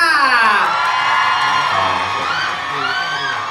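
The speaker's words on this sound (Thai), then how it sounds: "ขอเสียงปรบมืออี กสักครั้งให้กับบินเบชวินค่ะ" A crowd at a press launch event for a brand's first presenter cheers loudly, with high-pitched shrieks and whoops that overlap in a continuous roar.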